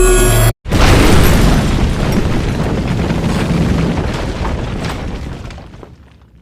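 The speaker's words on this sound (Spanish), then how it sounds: "la explosión fue intensa" A powerful explosion in an anime fight bursts out after a brief instant of silence, a loud broadband blast that rumbles on and slowly fades over several seconds.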